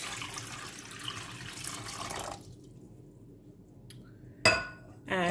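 Tap water running into a pot for boiling pasta: a steady hiss of flowing water for about two seconds, then quiet, followed by a couple of sharp metallic clinks of the pot near the end.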